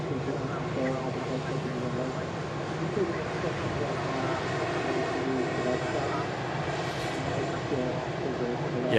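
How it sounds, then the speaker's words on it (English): An Airbus A380 Super Jumbo taxiing at Manchester Airport's Runway Visitor Park gives a steady engine hum with layered tonal drones, moderately near, as people talk over it throughout. "taxiing past us here at the Runway Visitor Park. Yeah, the Airbus Super Jumbo taking centre stage at the moment."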